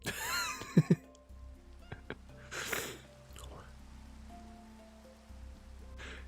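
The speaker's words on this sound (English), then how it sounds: "It's raining all the way on this world." Soft, steady rain patters in Minecraft, faint and continuous under a voice and a few brief game noises.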